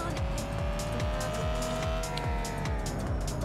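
Tires squealing as a car drifts in a car-dealer simulator game, a sustained loud screech over the engine's repeating revving sweeps, with a voice murmuring underneath.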